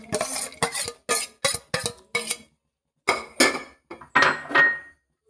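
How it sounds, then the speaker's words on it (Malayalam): Fried prawns are tipped into a pan of prawn pickle, a run of sharp metallic clinks and scrapes from a spoon against the pan, in quick bursts with a short pause midway. "ഇത് നമുക്ക് വറുത്ത് വെച്ചേക്കുന്ന കൊഞ്ച് അങ്ങോട്ടിട്ട് കൊടുക്കാം"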